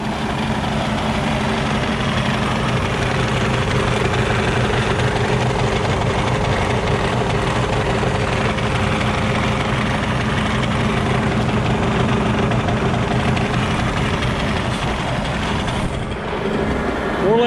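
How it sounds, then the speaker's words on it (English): A farm tractor's engine idles while warming up, a loud, steady low rumble with a constant throb that holds unchanged throughout. "We'll let this tractor warm up, let that oil sit there and circulate"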